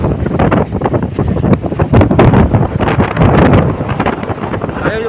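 Strong northeast monsoon wind roars and buffets the microphone continuously over open water, loud, gusty and storm-like, with rushing, turbulent noise throughout.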